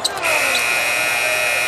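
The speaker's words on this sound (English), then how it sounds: "great look inside, and Isaiah Musius beats the buzzer" A loud, sustained electronic buzzer sounds at the end of a period in a 2020-21 ACC men's college basketball game between Duke and Wake Forest, holding steady under crowd noise and a commentator's voice.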